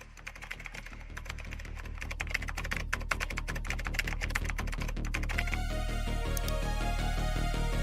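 Rapid clattering keystrokes on a computer keyboard fill the first five seconds up close, irregular and busy, then give way to a steadier sustained tonal hum.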